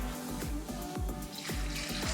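Water poured into a blender jar for homemade almond milk, four cups streaming in as a steady, close, continuous splashing pour with no talking.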